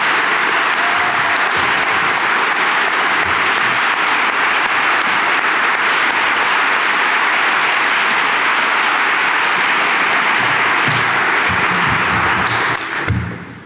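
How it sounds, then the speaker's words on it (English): A reunion convocation audience at Denison gives a sustained round of applause, dense steady clapping filling the hall for about thirteen seconds before tapering off at the end. "Can we please give them one more round of applause?"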